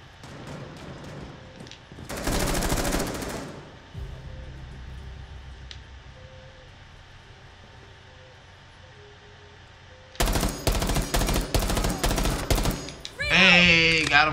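Bursts of rapid gunfire from a Rainbow Six Siege match come in two dense volleys, one early and one near the end, with a quieter stretch between and a voice talking over the action.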